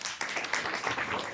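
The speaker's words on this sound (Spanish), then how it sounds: "Un aplauso, por favor." Applause from a seated group at a talk on workplace culture and leadership, a dense scatter of hand claps at moderate level, steady for the whole moment with no talk.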